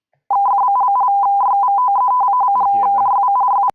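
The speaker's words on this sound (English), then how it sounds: "So that is the sound of radio teletype, which is a method of transmitting data." Radio teletype bleeping from a 3D visualisation program, a rapid steady stream of high electronic tones alternating between two pitches, loud and continuous for about three seconds, with a voice briefly speaking over the middle.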